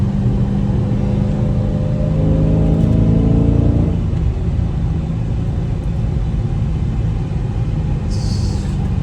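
A Dodge Hellcat rumbles loudly while driving, with a rising supercharger-like whine over the first few seconds that then settles back into steady engine and road noise.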